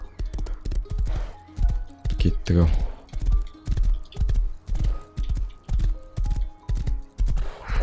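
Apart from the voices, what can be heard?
horse hooves clip-clop in video game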